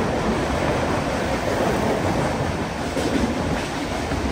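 A Mumbai to Pune train moves through the Khandala ghat, its steady broadband rumble and rushing wind noise constant and loud from inside the carriage, with no voices.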